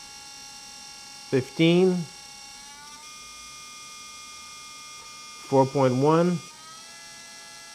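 A brushless motor spinning on a SkyRC motor analyser gives a constant electric whine and hum throughout, while a voice briefly reads out numbers twice.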